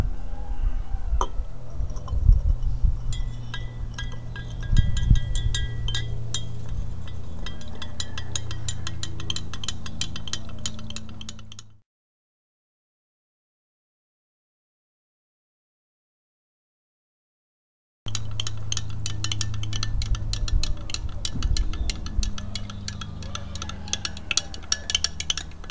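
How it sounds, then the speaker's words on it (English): A nickel oxyhydroxide mixture is stirred in a glass container, giving faint clinks and scraping against the glass at close range. The sound cuts to a stretch of silence partway through, then the soft clinking and stirring noises resume. "So I'm going to stir that while I add that."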